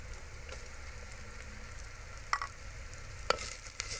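Carrots and onion sizzle steadily as they are stir-fried for Maggi noodles in a clay pot, with a soft continuous frying hiss and occasional sharp scrapes and taps of a spoon against the pot.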